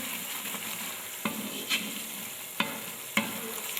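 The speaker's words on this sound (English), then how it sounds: "You can see I am still stirring it" Jollof rice is stirred in a pot over the heat, giving a steady close-up sizzle broken by three or four sharp spoon knocks against the pot's side, with no voices.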